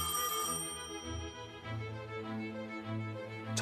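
An old telephone rings in an office, producing bursts of bright electric bell tones that repeat in a steady rhythm, fairly close and clear with no talking.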